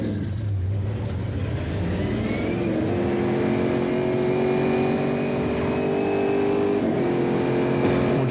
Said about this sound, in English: In the number 2 Corvette, the Milanese took us on his qualifying lap aboard his GT2 division Chevrolet